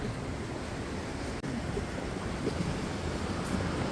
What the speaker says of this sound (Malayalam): മൈക്കില്ലാത്തോണ്ട് നല്ല ശബ്ദമുണ്ട് അവിടെ, മറ്റേ വെള്ളം വീടുന്നതിന്റെ